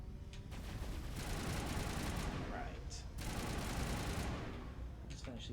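Sustained Mass Effect gunfire: dense, continuous volleys of rapid shots with brief gaps, loud and close throughout, a voice talking under the shooting.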